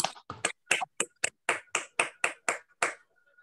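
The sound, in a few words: audience applauding a poem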